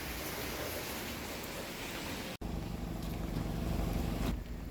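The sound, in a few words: heavy rain falling outside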